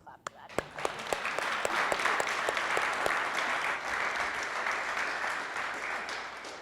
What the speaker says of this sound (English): I'll give a clap for that.